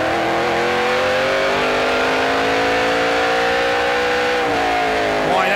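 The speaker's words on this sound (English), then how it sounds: "that gives you a great idea of how long they're on the throttle down that front stretch" A Mopar Dodge stock car in the A&W Cruisin' the Dub 300 race roars loudly at full throttle down the front stretch, the engine pitch rising steadily and holding with a slight dip near the end.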